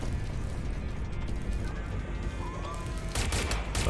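Automatic gunfire in the Watch Dogs Legion video game, dense rapid bursts of shots with metallic mechanical clatter, loud and continuous and sharpening near the end.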